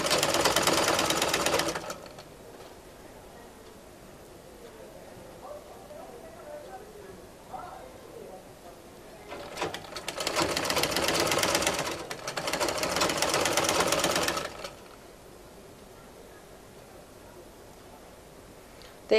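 A sewing machine stitches a kameez sleeve in loud rattling bursts up close, one short run at the start and a longer two-part run midway, with quiet gaps and a voice speaking in between.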